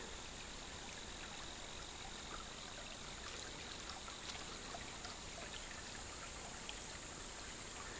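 Mountain stream in Shenandoah National Park, swollen two days after rain, rushing steadily at close range as a continuous broadband wash of water with no voices.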